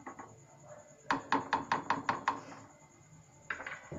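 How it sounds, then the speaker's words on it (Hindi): A knife chopping dried fruits on a board for carrot kheer: a quick burst of about seven crisp, evenly spaced chops, a pause, then a few more strokes, close and clear with no talking. "जब तक हम जो हमने ड्राई फ्रूट्स लिए हैं वो हम काट लेते हैं"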